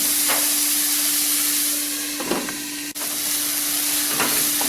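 Pumpkin pieces for payasam sauté in a hot pan, giving a steady close sizzle and hiss with occasional stirring scrapes and a low constant hum underneath.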